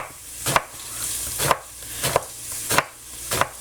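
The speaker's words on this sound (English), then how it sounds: "crying while cutting onions" A knife chops onions on a cutting board in a home kitchen while spicy chicken soup is being made, five crisp separate cuts at an uneven pace, close and clear with no talking.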